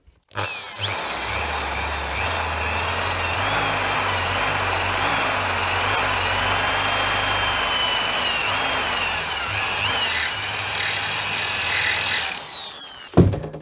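A Vorhut impact drill bores steadily with a chrome-vanadium bit on a bearing without a centre punch, a loud continuous close whine with a wavering pitch that runs for about twelve seconds before stopping abruptly.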